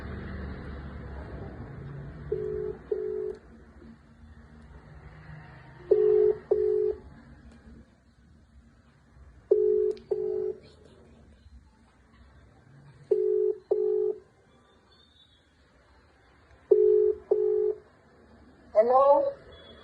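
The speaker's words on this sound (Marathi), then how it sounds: "आता माझ्या फोनवर आपण मावशीला फोन लावूया" Phone call ringing on a mobile: five evenly spaced double-pulse ringback tones over about twenty seconds, with quiet background noise and a brief rising chirp at the end as the call connects.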